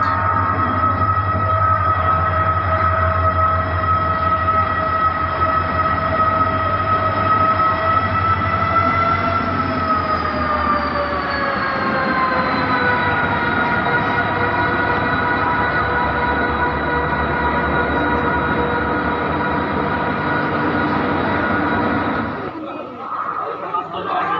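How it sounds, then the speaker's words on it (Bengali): A passenger train pulls into a railway station with a continuous rail rumble. A long tonal whine bends downward midway as it slows, then the sound cuts off near the end. Crowd chatter and talking go on around it. "আমাদের ট্রেন ঢুকে পড়েছে দু ঘন্টা লেটে"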